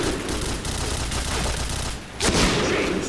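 Gunfire in the video game Point Blank, rapid automatic bursts forming a dense, continuous rattle with a sharper blast near the end, loud and close, with no talking.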